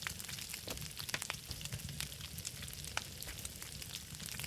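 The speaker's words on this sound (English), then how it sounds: "Well, that's proper sizzling." Food sizzling over a very hot fire in the survival game Scum, a faint continuous crackling fry with scattered sharp pops and ticks, alone without talk.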